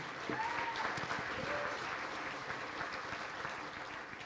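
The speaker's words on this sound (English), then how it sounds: "Would you give those amazing sponsors a big round of applause?" Audience at a charity gala applauds the event sponsors, a steady wash of many hands clapping from a large room, sustained evenly for several seconds with a faint voice briefly audible underneath.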